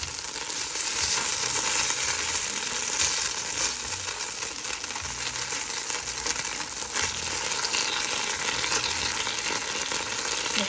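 Broccoli fries in a pan with a steady, loud, crackling sizzle that carries on without a break. No one speaks.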